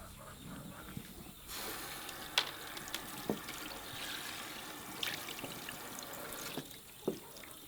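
Tap water runs steadily into a sink while a butchered chicken is rinsed under it, with occasional splashes and clinks, faint and close.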